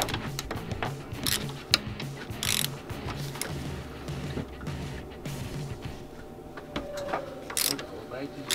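Ratcheting and clicking of hand tools loosening bolts on the front suspension of a 1985 Harley-Davidson FXR with aftermarket parts, a steady mechanical clatter with occasional sharp clicks, close up, with a voice speaking now and then.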